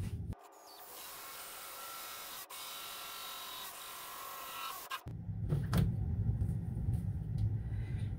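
A steady, high-pitched power drill whines for several seconds, grinding through a plastic bucket, then stops and gives way to a lower rumbling mechanical noise.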